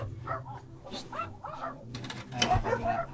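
Dogs whimper and yip in short bursts while people talk nearby as a cage for new pets is being fixed up.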